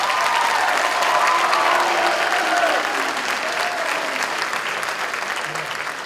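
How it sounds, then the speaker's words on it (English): Steady applause from a school concert audience for a county band soloist, a dense even wash of clapping that holds throughout, with faint voices mixed in. "Stand up, because he needs a round of applause for that."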